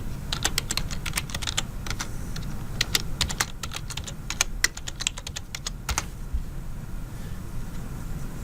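Someone types a username on a computer keyboard. There are quick, irregular clacks of keystrokes, close and steady for several seconds, then a brief pause before a few final taps.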